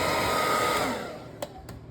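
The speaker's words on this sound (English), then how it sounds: "I'm using a regular home blow dryer" A regular home hair dryer blows loudly and steadily on a tunneling candle, its rushing airflow fading as it is switched off, followed by two short clicks.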